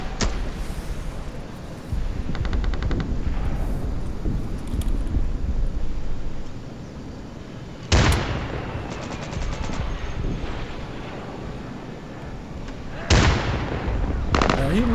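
Gunfire in the video game Insurgency on the District map: several sharp loud shot bursts, including rapid automatic volleys, break through a steady ambient background.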